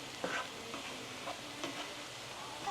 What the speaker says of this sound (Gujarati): તો મશરૂમને પ્રોપર બધામાં મિક્સ કરી દઈએ.